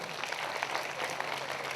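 Applause at a Hindi-language Christian prayer meeting in Ghaghra, a steady, moderately loud patter of many hands clapping together.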